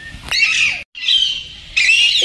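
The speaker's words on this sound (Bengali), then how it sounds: "এবার টিয়া পাখি দেখছে" Zoo parrots give loud, harsh squawking calls in two bursts separated by a brief silence, close by and without any talk.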